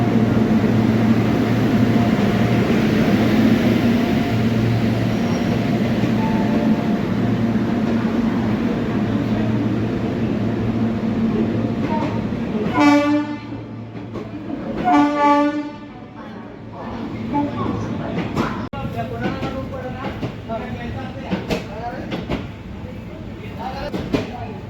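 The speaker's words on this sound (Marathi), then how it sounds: "आपली तिरुपती पंढरपूर एक्सप्रेस पंढरपूर येथे पोहोचलेली आहे" The Tirupati–Pandharpur express, hauled by a WAG 9 locomotive, rolls into Pandharpur's platform 1 with a steady rumble, then sounds a series of loud horn blasts before clattering wheels and brake noise follow.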